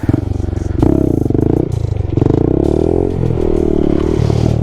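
Honda Grom stunt motorcycle engine drones loud and close, rising and holding pitch through a wheelie, with a steady buzzing note, a brief dip, then climbing again and rattling clatter throughout.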